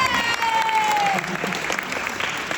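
An audience at a fan convention claps in a burst, the applause loud at first and then thinning, with voices heard over it.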